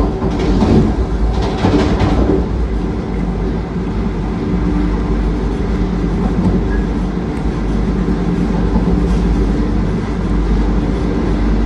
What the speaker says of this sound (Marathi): कोपरगावला आपली ट्रेन ऑन टाइम पोहोचली होती